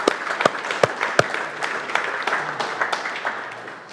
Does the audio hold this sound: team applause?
yes